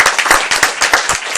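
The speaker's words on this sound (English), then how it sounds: "let's maybe another round of applause for Winkler Middle School" An audience at a school board meeting applauds a middle school choir, close, bright clapping with distinct individual hand strikes over a brief burst.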